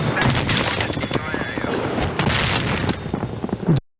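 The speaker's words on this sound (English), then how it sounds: "He's shooting." Rapid bursts of video game gunfire during a graphics card benchmark, loud and dense with repeated sharp shots over several seconds, ending abruptly.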